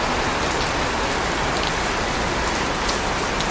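Heavy rain pouring down on a flooding street, a dense, loud and unbroken hiss of raindrops filling the whole short stretch with no voices.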